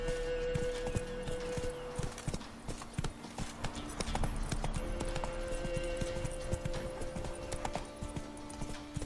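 Roach the horse gallops through The Witcher 3 with quick, rhythmic hoofbeats that keep up a steady drumming under soft game ambience, close and continuous for the whole stretch.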